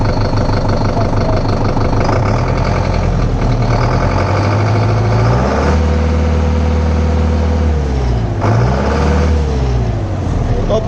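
A Sonalika CRDI tractor diesel engine rumbles loudly and steadily at idle nearby, its pitch rising and falling a couple of times with throttle changes.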